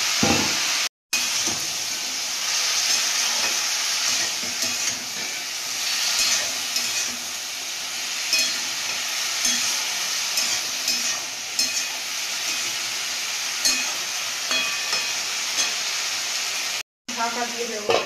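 Spinach and potatoes frying in a pan, with a dense, continuous sizzle and hiss and occasional stirring scrapes, loud and close throughout, broken by two very brief dropouts.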